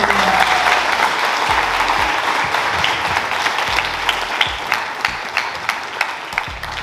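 Applause for scholarship recipients at a senior scholarship awards ceremony, loud dense clapping that gradually thins out, leaving a few separate claps near the end.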